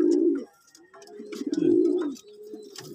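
Pigeons coo in low, throaty rolling bursts, close by and fairly loud, with a pause in between and a few faint higher chirps; the birds are being kept after a deworming course and are vomiting.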